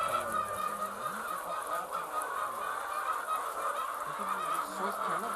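A crowd of laying hens on an egg poultry farm keeps up dense, continuous clucking and squawking, a steady close chorus with no talk over it.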